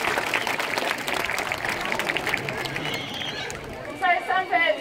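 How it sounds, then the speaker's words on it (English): Applause from an audience at a bird show featuring a barking owl at Healesville Sanctuary in Australia, a steady crowd clap with chatter and an announcer's voice over it, fading toward the end. "Give Millie a clap and she'll do a great job"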